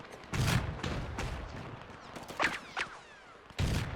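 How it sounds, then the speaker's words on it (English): Russian machine gun fire in the WW1 game Between Empires, a few sharp bursts and scattered shots at mid distance over a busy battlefield din, with heavier blasts near the start and end. "the Russian machine gunners are tearing us up"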